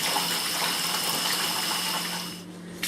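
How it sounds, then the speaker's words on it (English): Carrots and potatoes boil in a pot of water, giving a steady, dense rushing and bubbling hiss that stays loud throughout and eases slightly at the very end, with no voices. "Keep boiling the carrots and the potatoes until they're soft"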